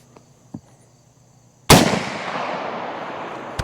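A single sharp, loud gunshot from a Henry rifle with a 20-inch barrel cracks out after a couple of small knocks, then rings and rolls away in a long fading echo outdoors.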